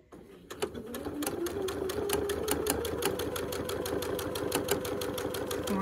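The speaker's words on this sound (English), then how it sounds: "So we are just going to sew directly on this line." A sewing machine stitches steadily along a marked line on quilt block pieces, a fast, even mechanical whir with rapid needle ticks running continuously and close up after a brief quiet start.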